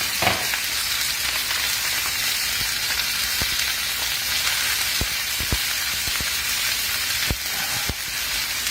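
Chicken seasoned with Lipton onion soup mix sears in a pot with a loud, continuous hissing sizzle and occasional crisp pops and crackles, heard alone with no talking.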